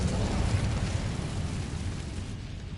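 A roaring, continuous whoosh of flame from the Incendio fire spell in Hogwarts Legacy, loud and broadband throughout, slowly fading at the end with no talk over it.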